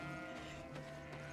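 Sheep bleating in the fantasy game GreedFall, a steady nasal cry that holds on and off across a second and a half, close and fairly loud, with no talk over it.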